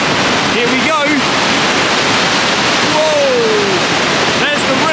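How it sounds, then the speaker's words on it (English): Water roars loudly and continuously at the Trollhättan river spillway, a dense, close rushing sound with brief faint voices and whistle-like tones over it. "The water is getting louder, you can hear it."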